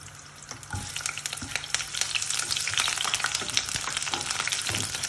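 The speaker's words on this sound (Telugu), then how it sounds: "ఇప్పుడు కొద్దిగా ఉల్లిపాయలు వేస్తున్నానండి." Onions frying in a curry for prawn biryani, a steady close sizzle with crackling pops and occasional stirring clatter, continuous and fairly loud.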